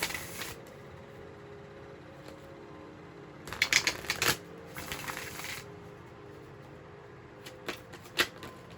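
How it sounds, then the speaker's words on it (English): Brisk riffling of a tarot card deck in short bursts, a few quick shuffles separated by pauses, close and fairly soft. "I'm just going to shuffle a little bit more."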